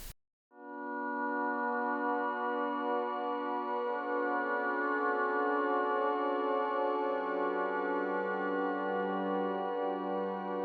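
A lush, sustained synthesizer pad from Alchemy with shimmering, slowly shifting chords and a lower note entering partway through, steady and loud with no talking.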